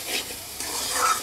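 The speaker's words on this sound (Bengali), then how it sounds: "ভালো করে সবজিটাকে কষিয়ে নিচ্ছি" Vegetables for a vegetable biryani are stirred and sautéed in a pan on low heat, giving a brief soft scrape and a gentle sizzle, close up.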